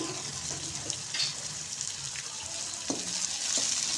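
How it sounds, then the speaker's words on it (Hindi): Tomato frying in a pan for an egg and mixed-vegetable dish, a steady close sizzle and hiss with a few soft stirring clicks and scrapes, no voices. "टमाटर को मैंने अच्छी तरह भून लिया।"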